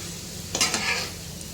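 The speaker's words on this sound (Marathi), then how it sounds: "आता जवळजवळ दहा मिनटं झाले आपण ठेवलेले आता आपण पलटी करूया ना हे बघा" Slices of elephant foot yam frying in an uncovered pan are flipped over, giving a brief scrape and clatter followed by a soft sizzle that fades, heard close up with no speech.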